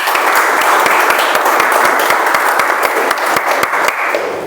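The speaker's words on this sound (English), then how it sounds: "Let's have a round of applause." An audience applauds at a Toastmasters speech meeting, giving a steady, dense round of clapping with sharp individual claps standing out, loud and sustained throughout without any voices.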